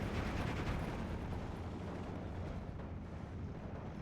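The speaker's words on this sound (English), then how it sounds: "this mortar here is just going to unload consistently on these guys" A mortar fires repeatedly in the Steel Division 2 war game, producing a dense, continuous rumble of booming blasts that is loudest at the start and eases slightly, with no talk.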